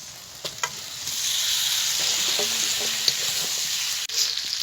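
Fried potatoes and chicken pieces tipped into cooked spice masala in a pan, giving a loud continuous sizzle with a few stirring clatters and scrapes.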